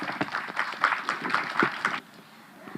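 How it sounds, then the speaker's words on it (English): Audience clapping at a panel event honoring a speaker, a brisk patter of hands for about two seconds that then stops abruptly, leaving quiet room tone. "So give her a round of applause, please."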